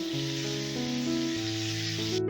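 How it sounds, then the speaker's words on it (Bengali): Pieces of pointed gourd (potol) fry in oil with a pinch of sugar and turmeric, giving a constant hissing sizzle under steady background music until it cuts off at the end. "এবার পটলগুলোকে লাল লাল করে ভেজে নেব"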